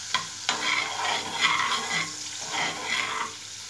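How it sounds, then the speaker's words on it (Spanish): Garlic frying in a pan while being stirred, with a soft crackling sizzle broken by several scraping stirs close up, and no speech. "Voy a dejar que se fría"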